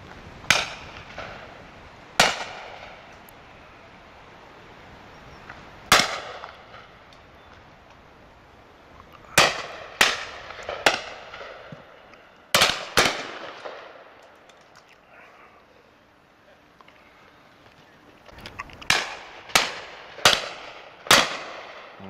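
Shotgun blasts ring out on a January pheasant and partridge shoot day, sharp loud reports arriving singly and in quick clusters of two to four, separated by quiet countryside pauses.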